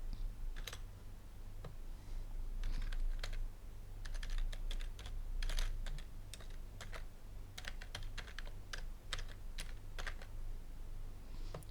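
An email address being typed on a computer keyboard, with quick irregular bursts of close key clicks and short pauses between runs of keystrokes, over a faint low hum.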